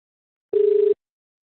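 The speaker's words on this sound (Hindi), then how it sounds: "देखिए कॉल लग रही है।" A single electronic ringback tone from an internet phone call placed from a PC, a steady mid-pitched beep lasting under half a second, clear and alone against silence.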